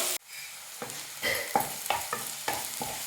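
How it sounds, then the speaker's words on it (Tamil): Chopped large onions hit hot oil with fenugreek seeds, bursting into a loud sizzle, then a steady fry punctuated by several rhythmic scraping stirs in the pan, no talking. "அந்த வெங்காயத்தை நான் இதில் சேர்த்துட்டு வெங்காயத்தை நல்லா வதக்கிக்கலாம்"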